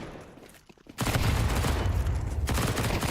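A grenade blast in Counter-Strike during a competitive esports match, a sudden loud broadband boom after a quiet moment, sustaining a rumbling roar for about a second and a half before easing off, no talk.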